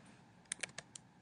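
Typing on a computer keyboard while tabbing through fields: four quick, faint key clicks in a brief, close burst, with no voice.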